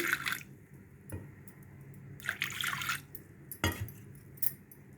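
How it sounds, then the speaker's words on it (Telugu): Water is poured into a small pressure cooker over washed toor dal, coming as a few separate bursts of splashing and trickling, close and moderately loud, with quiet pauses between pours. "పప్పు మునిగినంత వరకు నీళ్లు పోసుకోవాలి"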